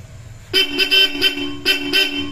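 A loud stock car horn on a Hyundai Stargazer honks in a rhythmic series of short and longer blasts, close by and clear.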